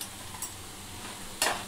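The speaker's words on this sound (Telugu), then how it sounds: "కొంచెము అల్లము పచ్చివాసన పోయే వరకు వేయించుతూనే ఉండాలండి." Ginger and dried red chillies frying in a pan on low heat for alam chutney, a soft steady sizzle with a couple of brief stirring scrapes, the second louder near the end.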